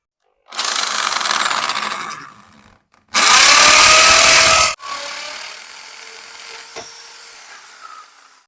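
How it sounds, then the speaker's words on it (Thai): A power drill bores a hole into a house wall while mounting a CCTV camera. It runs in three close, loud bursts with short pauses between them, and the middle burst is the harshest. "ผมจะเจาะ ให้มัน ชิดมุมนี้เลยนะครับ"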